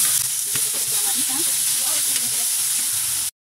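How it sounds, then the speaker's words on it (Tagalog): Tofu frying in hot oil in a pan, a loud, steady close-up sizzle with faint crackles and spatters, then sudden silence near the end. "iprito muna natin yung tokwa"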